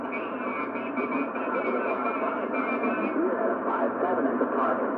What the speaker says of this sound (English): You hear that buzzing?